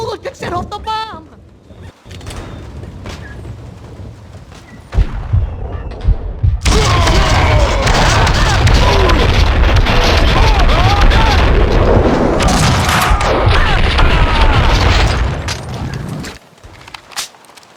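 Heavy explosions and gunfire from the video game Max Payne 2, with a bomb detonating, a dense loud roar of blasts and shots sustained for about ten seconds before cutting off, and brief talk near the start.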